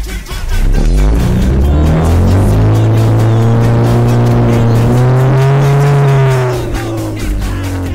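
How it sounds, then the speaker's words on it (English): Cars rolling through street traffic, a loud close engine drone that climbs steadily in pitch as a vehicle accelerates, then eases off near the end, with no talk over it. "all this fucking traffic."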